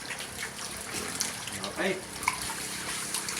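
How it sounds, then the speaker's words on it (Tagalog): Water gushes into a pond for African catfish, a close continuous splashing flow with small bubbling bursts, while a voice speaks briefly. "magkakarga na ako ng tubig ngayon dito"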